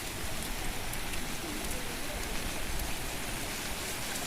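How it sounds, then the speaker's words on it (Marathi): Heavy monsoon rain pours down on paddy and finger millet fields in Konkan in a steady, dense hiss that stays loud and unbroken throughout, with no pauses. "पण अजून पाऊस पडतोय."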